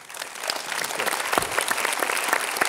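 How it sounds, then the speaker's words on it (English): An audience at a security panel breaks into steady applause for the panelists, many hands clapping together at a moderate distance, with no talk over it. "How about a welcome round of applause?"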